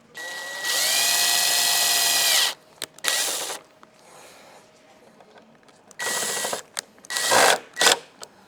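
Power drill driving screws into a gloss black spoiler on a Mercedes-Benz A Class, heard up close as two sustained whirring runs separated by short clicks and brief bursts.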